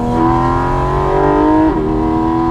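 Porsche GT4 RS engine pulling hard up a mountain pass, a loud, close, rising howl that drops sharply as it shifts up partway through, then climbs again.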